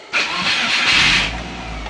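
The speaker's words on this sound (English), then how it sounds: "let's see if we can get a steady idle." Subaru Forester engine cranking and catching, then settling into a steady idle after a fault with a leaking idle air control valve, the start rising quickly into a loud, close, even engine hum over a low rumble.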